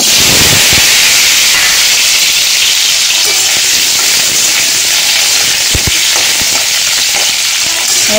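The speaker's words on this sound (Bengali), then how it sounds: "এখন আবার তেল গরম হয়ে গেছে, এখন আলু ভেজে নেব" Potatoes fry in hot oil for a Bengali drumstick and potato curry, a loud, close, continuous sizzle and hiss with occasional stirring knocks, no voices.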